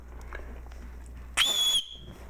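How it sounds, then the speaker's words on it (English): A single short, shrill whistle blast from the whistle on a Maxpedition Malaga bag rings out loud and close, lasting under half a second against a quiet background. "it's actually got a whistle on it"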